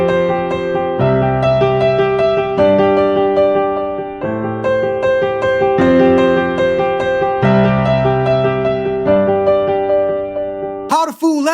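Piano played with both hands together on a simple song, a bass line under a repeating right-hand melody with a steady, full and continuous sound, close up, and a brief voice at the very end.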